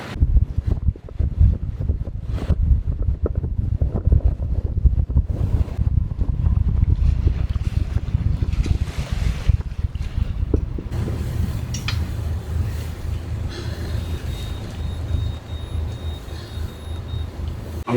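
Tropical storm-force wind, around 34 knots, roars across a sailboat under way, with heavy low rumbling gusts and microphone buffeting that ease somewhat toward the end, alongside splashes of water.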